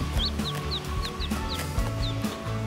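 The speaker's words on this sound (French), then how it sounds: "la mère est dans la cage avec ses petits poussins" A mother hen clucks low and steadily in a cage with her newly hatched chicks, which chirp in repeated high peeps close by.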